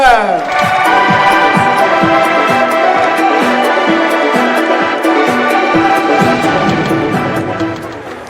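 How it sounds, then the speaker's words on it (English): Round of applause for two squash players at a club league match, a full crowd clapping steadily and briskly for several seconds before easing off slightly at the end. "round of applause for Marwan ElShorbagy and Lucas"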